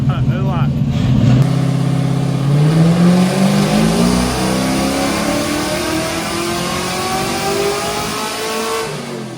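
A car's engine roars through a nitrous-assisted pull on a dyno, its note climbing steadily in pitch and staying loud and close from start to finish.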